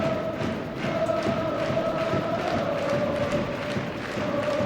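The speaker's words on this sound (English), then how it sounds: "Chanting crowd anticipating Fishlock's corner kick." A soccer stadium crowd at a women's match between Portland Thorns FC and Seattle Reign FC keeps up a steady, chanting roar as a corner kick is set up, a sustained wash of massed voices with no single speaker standing out.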